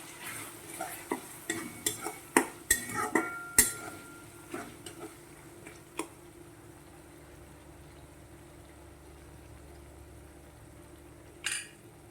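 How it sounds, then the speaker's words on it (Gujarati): A spoon scrapes and clinks against a pot while turmeric and coriander-cumin powder are stirred in for dal fry. A quick run of close, rhythmic knocks fades to near-silence, then one last clatter follows. "હવે આપણે તેને બરાબર મિક્સ કરી દેવાનું છે"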